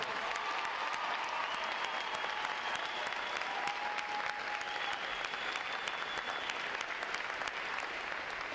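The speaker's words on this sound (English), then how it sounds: "One more round of applause for our award recipients." Sustained applause from a crowd at a Navy boot camp graduation, a dense, even patter of clapping that continues steadily throughout without speech.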